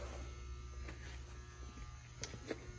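Torpedo heater runs in a farm shop with a steady low droning hum and buzz, faint overall, with a few small knocks and clatters over the constant roar.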